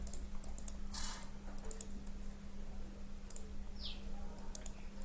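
Faint, scattered mouse clicks from a computer running CATIA sheet metal modeling software, sparse sharp ticks over a steady low electrical hum with no voices.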